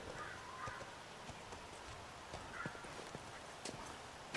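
Horse hooves clopping on ground in The Last of Us Remastered at an abandoned university, a faint, irregular series of soft hoof strikes against quiet ambient background.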